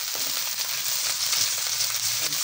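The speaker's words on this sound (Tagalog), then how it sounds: "Igisa lang natin hanggang sa lumabas yung kanilang aroma." Ginger sautéing in a pan for a ginataang hipon at pusit dish, a steady close bright sizzle of frying oil with faint stirring scrapes, continuous and unbroken, no talking.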